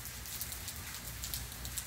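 Steady rain falls on a city street in Mazatlan, Mexico, a dense, even patter of drops on surfaces with no voices, close and continuous throughout.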